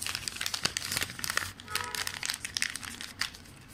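Paper being creased and folded by hand into a paper boat, close crinkling and rustling in quick uneven bursts, with no voices.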